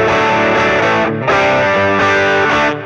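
Electric guitar with a drive effect from a Hotone Ampero II Stage plays sustained, distorted chords, loud and thick, with a brief dip in the middle before ringing on again.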